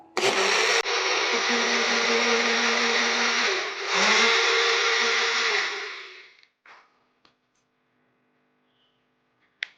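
A blender whirs loudly and steadily for about six seconds, mixing buttermilk with chaat masala and salt, then winds down to silence, followed by a few faint clicks and knocks.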